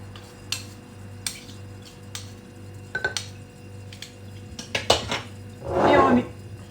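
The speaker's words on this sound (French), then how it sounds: "Et on remue." A spoon stirs homemade spread in a bowl, tapping and clinking against the sides in irregular strikes, then a longer wet scraping swirl near the end; close, with no voices.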